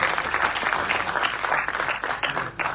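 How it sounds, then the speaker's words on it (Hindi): Audience at an award ceremony in Dehradun claps vigorously, a brief dense burst of applause with individual claps audible throughout. "जोरदार तालियों से आपका स्वागत"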